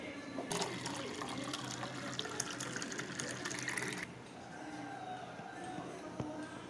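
Pomegranate juice strains through a filter as a steady, rushing liquid pour for about four seconds, then fades to a quieter trickle and faint background hiss.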